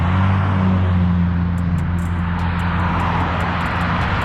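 An Audi RS5 and a Dodge Charger 392 Scat Pack race by, producing a loud, sustained engine roar with a deep low rumble and no talk over it.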